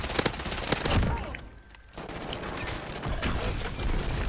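Rapid bursts of gunfire from a shooter video game in a search-and-destroy match crackle loud and close, with a short lull before the shooting resumes, dense and continuous to the end.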